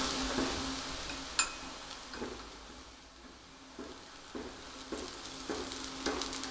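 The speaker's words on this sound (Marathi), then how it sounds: "परत दुसऱ्या बाजूने पण तेल सोडून घ्यायचं आहे" Onion thalipeeth, a Maharashtrian flatbread, frying in oil on a pan after being flipped, a faint, steady sizzle with a few soft clicks and taps from the pan, quiet and without speech.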